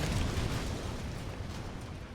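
Magitek Reaper cannon blasting through a doorway in Final Fantasy XIV, a loud rumbling explosion with a broad roar that holds steady and slowly tails off over two seconds.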